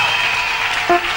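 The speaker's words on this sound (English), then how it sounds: "Can you give the Lord a clap in this house?" Church congregation clapping for the Lord, a dense steady wash of applause filling the room, with a brief voice rising near the end.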